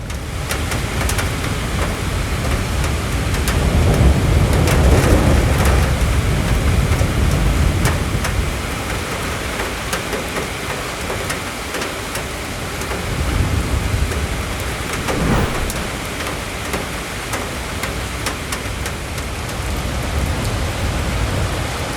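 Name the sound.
heavy rain downpour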